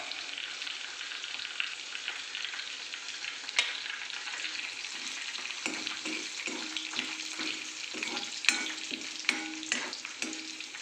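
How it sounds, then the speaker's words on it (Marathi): Whole spices sizzle steadily in hot oil over a low flame for mixed vegetable pulao, a continuous close frying hiss with occasional stirring clicks and scrapes of a spoon in the pan. "मंद आचेवर चांगले त्याला परतून घ्यायचे नंतर आपण त्यात ॲड करू थोडासा खडा मसाला"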